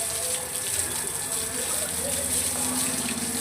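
Water pours and splashes steadily over a cow and buffalo being washed. The gushing is loud and continuous throughout, and faint voices sit underneath.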